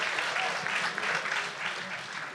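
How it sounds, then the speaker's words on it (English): Audience applause fills a hall at an alumni event honoring Dean's List students, a steady dense clapping that stays loud throughout, with faint voices mixed in. "that applause was for Jess and not you, Brian"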